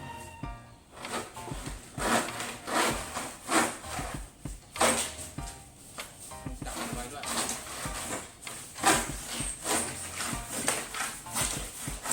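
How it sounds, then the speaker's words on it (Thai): Rhythmic back-and-forth sawing through a large piece of foam, steady rasping strokes repeating close by, with voices talking intermittently underneath. "เราต้องใช้เลื่อยเพราะว่า มันใหญ่ด้วย"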